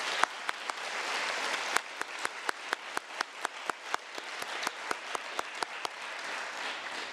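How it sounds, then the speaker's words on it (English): Audience at a school opening ceremony applauding, a broad sustained wash of clapping with one pair of hands standing out in a steady, evenly spaced beat close by, the whole round fading slightly toward the end. "If we can please clap for them and all they've done for our school."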